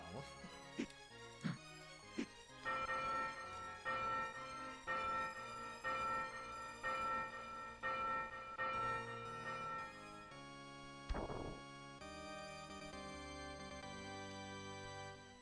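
Bell tower music in the video game Demon's Crest: a few sharp struck chimes, then a steady rhythmic sequence of ringing bell tones with sustained, shimmering decay, plus one low thud near the end, all at moderate volume.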